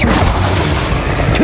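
Confringo fire spell exploding in the Hogwarts Legacy video game, a loud, dense booming blast that fills the short moment with rumbling crackle.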